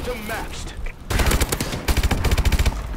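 Rapid turret gunfire from the Call of Duty: Advanced Warfare video game breaks out in dense bursts after a quieter opening, fast repeated shots loud and close, with brief gaps between volleys and a player's voice faintly under it.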